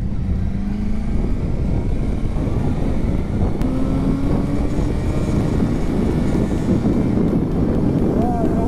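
A 2009 Suzuki GSR 600 motorcycle riding in first gear, its engine droning steadily under strong wind buffeting, with rising and shifting engine tones audible through the ride.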